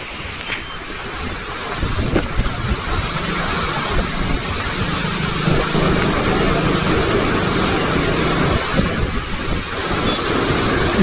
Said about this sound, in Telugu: మొత్తం 6 గేట్స్ ఓపెన్ చేశారు కాబట్టి చాలా ఫోర్స్ అయితే పెరిగింది వాటర్